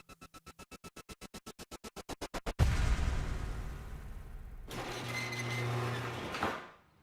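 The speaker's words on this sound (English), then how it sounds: "That's your garage door." A nearly broken garage door used as a sound effect in a radio ad: a rapid series of regular clanks speeding up, then a loud grinding, rattling mechanical roar that surges again before cutting off, with no talk.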